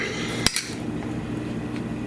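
A kitchen knife chopping mushroom caps on a cutting board gives one sharp, close knock, then a softer second tap, before a quiet stretch.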